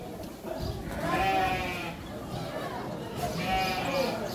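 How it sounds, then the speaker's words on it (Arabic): Sheep bleating in a livestock pen on a farm, two drawn-out wavering calls close by, one at about one second and another near three and a half seconds, over a low background murmur. "عنده ما شاء الله كمية ضخمة من الخرفان"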